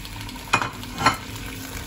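Shrimp for sambal balado frying in a pan, with two brief stirring bursts of sizzle and scraping over a steady low frying hiss.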